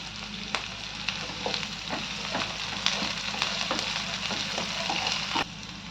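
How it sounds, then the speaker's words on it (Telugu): Green chillies and curry leaves sizzle in hot oil for a ridge gourd and chana dal curry, with a constant crackling fry broken by scattered sharp scrapes and clicks of a spoon stirring the pan. "ఇప్పుడు కరివేపాకు వేసుకుందాం వేసుకొని ఒకసారి బాగా కలుపుదాం"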